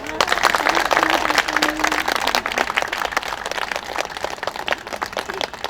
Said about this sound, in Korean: 우리 서로를 향해서 축복의 박수를 보냅시다.